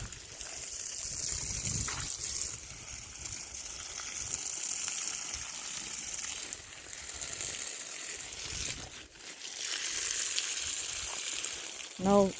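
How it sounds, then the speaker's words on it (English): Water gushes and splashes steadily, close by, while hand-watering plants in a tropical garden in Jamaica, with brief dips and surges as the stream shifts, then a short clatter at the end. "This is like sitting at the river and listening to the water run."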